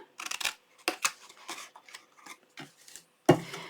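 Scissors cut paper for a small treat box in a series of short, crisp snips and slicing strokes with brief gaps between them, close and fairly quiet, ending with one sharper snip.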